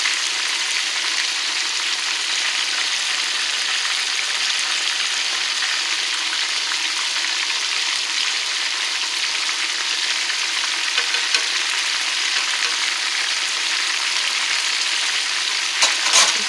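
Chicken drumettes fry in a pan with a steady, loud, close sizzle and crackle that runs without a break, with a few sharper pops near the end.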